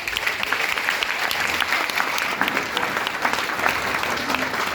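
Hearty applause from a workshop training audience in Satna, dense steady clapping that holds at an even level throughout, with faint murmurs underneath.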